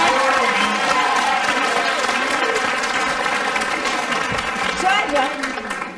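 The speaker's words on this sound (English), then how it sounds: "Chaja, you are clapping hands like crazy." Loud, steady clapping from a television talk-show studio audience, a thick continuous roar of hands with a faint hum of crowd voices beneath, easing off slightly at the close.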